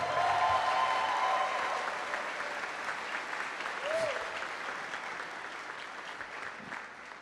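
An audience at a community college commencement applauds the college band, clapping loudest at the start and gradually thinning, with a faint voice briefly audible amid it.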